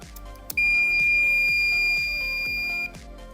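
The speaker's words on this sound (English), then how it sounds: "the lock will make a loud beeping sound" A loud, steady high-pitched electronic beep from a door lock, held for about two seconds over a faint background, then stopping.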